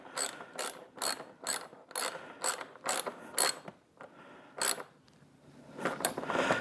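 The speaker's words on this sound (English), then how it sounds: "when you're tightening them down, just tighten them down until they snug" Rapid ratcheting clicks come in a string of close bursts as screws are tightened on a motorcycle windshield, a short pause, then a final softer run of clicks.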